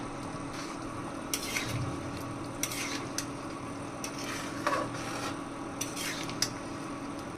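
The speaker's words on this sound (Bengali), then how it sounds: "এখন একটু নেড়ে নিব" Chicken soup being stirred in a cooking pot, with soft scraping and rubbing of a utensil against the pot, a few light clinks scattered across a steady low background hum, no talking.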